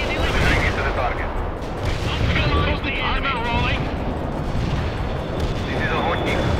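A bunker buster air strike in the World in Conflict game during a Soviet invasion of Norway, heard as continuous loud rumbling explosions and battle noise with radio chatter and voices over it.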